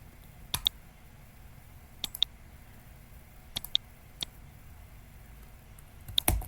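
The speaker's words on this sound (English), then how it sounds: "Look, I'm going to click" A computer mouse clicking while editing in Microsoft Word, several sharp close clicks, some in quick pairs, spaced a second or two apart over a quiet room background.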